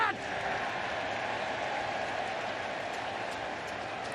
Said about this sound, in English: Sarcastic cheer from this crowd.